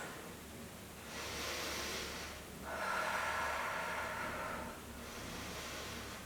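Slow, deep yoga breathing during a self-love flow session: two long, airy inhale-exhale swells, soft and close, with no talking.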